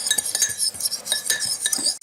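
A half tablespoon each of Cajun seasonings is being stirred together in a bowl, giving steady close clinks and scrapes of a utensil against the dish in a quick, repeated rhythm, with no talking.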